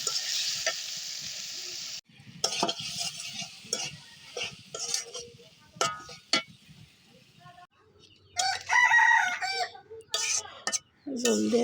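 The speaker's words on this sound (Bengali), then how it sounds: "কষাইতেছি টমেটো" Tomatoes frying in a pan while being stirred: bursts of sizzling and scraping spoon strokes come and go, with a rooster crowing nearby and occasional voices in between.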